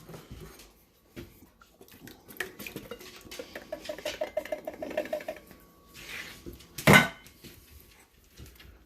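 Two 8-ounce cans of tomato sauce are emptied into a pot of homemade chili, with soft glugging and scraping pats, light metal clinks, and a sharp clang near the end, close and fairly quiet.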